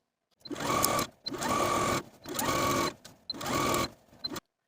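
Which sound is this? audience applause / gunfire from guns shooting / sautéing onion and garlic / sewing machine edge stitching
sewing machine edge stitching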